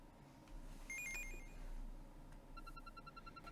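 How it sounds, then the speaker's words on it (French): A new blog post notification chimes in the Inazuma Eleven video game, short bright electronic ringing tones sounding twice over quiet game background music, faint and brief. "Ça, c'est le signal qui indique la publication d'un nouvel article."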